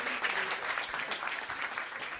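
An audience at a talk about blockchain and Bitcoin applauds in a steady dense clatter of many hands, fairly near, with no break across the brief burst.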